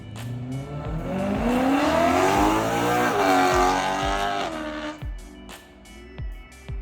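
A BMW engine revs hard with a deep, raspy exhaust note through stock headers and an X-pipe, rising to a loud sustained roar before dropping back to a rumbling idle with pops.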